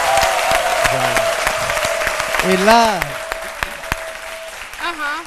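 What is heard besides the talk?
audience applause for reggae artist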